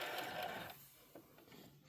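A sewing machine makes a short back stitch on a Christmas candy box junk journal, a quick whirring burst of under a second that then drops into near silence.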